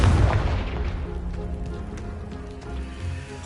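A Confringo fire spell blasts a pile of debris blocking a stairwell in the Hogwarts Legacy game. It opens with a loud, deep boom, then a rumbling, crackling tail of falling rubble that fades over a few seconds.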